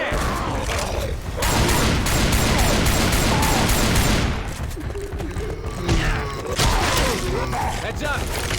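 Gunfire in Left 4 Dead 2, dense rapid shots and mechanical clatter filling the scene, loud and close, easing briefly then returning in scattered bursts, with people speaking underneath.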